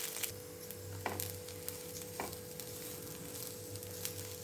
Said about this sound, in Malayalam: 2 കഷ്ണം പുട്ട് പൊടിച്ച് വെച്ചിരുന്നത് ഈ നെയ്യിലേക്ക് ഇട്ട് ജസ്റ്റ് ഒന്ന്